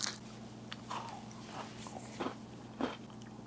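Someone bites and chews a chocolate-covered cookie with a crunchy cracker centre bought from an Asian market, giving several quiet, close crunches at irregular intervals over a low steady background hum.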